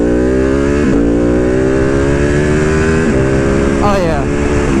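Ducati Panigale V2 motorcycle fitted with a Vandemon full exhaust and dB killers, revving loudly and close by, climbing through gear changes with strong harmonic engine tones from start to finish.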